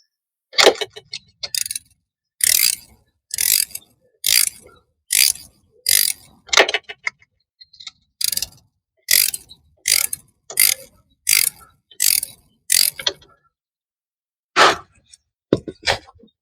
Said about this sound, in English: So I'm kind of putting this socket on here blindly.